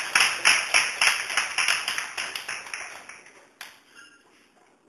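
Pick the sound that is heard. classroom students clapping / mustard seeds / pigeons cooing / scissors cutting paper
classroom students clapping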